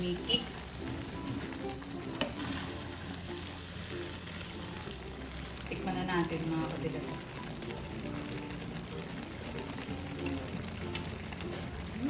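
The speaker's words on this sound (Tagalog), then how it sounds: "Haluin ang ating pansit" Pansit chami noodles frying in a pan and being stirred, a steady close sizzle with scraping stir sounds throughout, under a low background hum.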